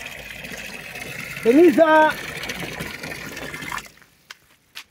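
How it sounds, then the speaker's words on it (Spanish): A kitchen tap runs into a container, making a steady rush of water that stops abruptly near the end, leaving near silence. A woman calls out loudly partway through. "Voy a cerrar el agua que ya está lleno el cacharro"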